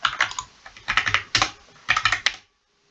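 Quick bursts of computer keyboard typing come in short clustered runs of clicks and key taps, close and crisp, with brief pauses between groups before falling silent near the end.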